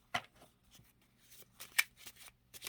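Quiet riffling and flicking of playing cards being shuffled, in a few short bursts with near-silent gaps between them.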